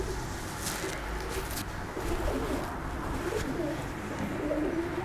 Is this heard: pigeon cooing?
yes